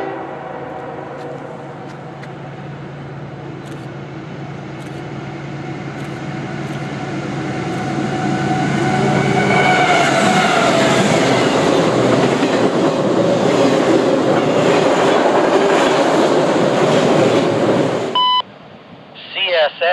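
A CSX freight train rumbles past a trackside defect detector on the Mohawk subdivision, growing louder with clattering wheels on rails and a steady roar. An automated voice speaks under the train noise, and a short beep comes near the end.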